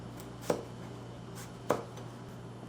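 A knife chops carrot on a cutting board while five-spice pork is being prepared. Two quiet, evenly spaced strikes sound over a steady low background hum.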